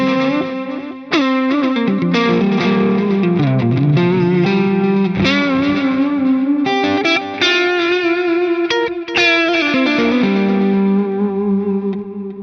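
An electric guitar played through a stereo delay block on a Fractal AX8 rings out with a distorted tone, sustained notes and chords trailing into echoing repeats that form a wide halo, loud and alone.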